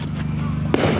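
A green firework bursts outdoors with a single sudden bang partway through, cutting sharply through a loud, low background rumble of the display.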